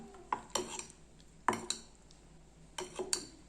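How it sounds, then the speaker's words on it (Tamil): Onion, green chili and curry leaves being mixed into wheat rava batter in a bowl, several sharp spoon clinks and scrapes against the vessel in short bursts with quiet gaps, close up, no talking. "இப்போ நல்லா கலந்துக்கலாம்"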